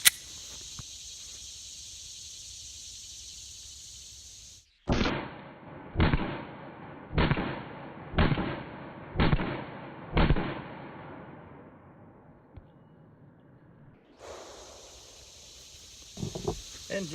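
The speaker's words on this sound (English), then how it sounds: "I think maybe we should get a couple shots of us just emptying the mags into them pretty quick." A Glock 43 pistol fires six sharp, evenly spaced shots about one second apart, each loud crack trailing a brief echo outdoors, framed by steady insect buzz before and after.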